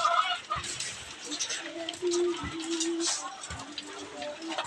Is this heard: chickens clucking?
yes